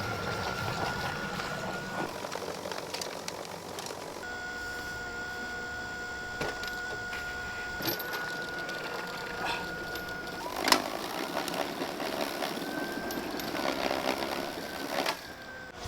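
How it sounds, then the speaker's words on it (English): A skid steer idles in winter cold just after a hard start on a weak battery, a steady rough mechanical drone with whining tones and a few clanks and bumps nearby. "I'm still very impressed with how quickly and easily the skid steer started"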